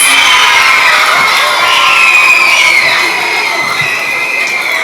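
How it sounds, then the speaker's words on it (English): Loud, continuous crowd of schoolchildren cheering and shouting with applause at a November student-of-the-month award event, a dense steady roar with scattered whoops throughout. "let's hear one more nice big round of applause for all of our November winners."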